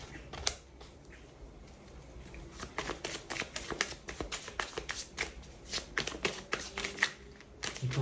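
Oracle cards being shuffled and drawn from a deck, a close run of soft flicking, slapping card sounds in quick irregular bursts, with no talk.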